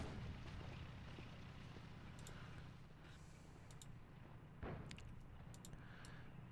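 Artillery strike in the North Africa war game Attack at Dawn, a continuous rumbling barrage of explosions with a sharper blast near the middle and scattered crackling impacts, loud and dense throughout.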